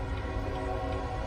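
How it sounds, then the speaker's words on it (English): An approaching train sounds its horn in a steady, sustained blast over a continuous rail rumble, with no talking. "There's a train coming."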